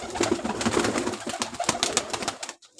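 Several Ferozpuri pigeons coo with soft, overlapping throaty calls, close and steady for a few seconds before they fade out.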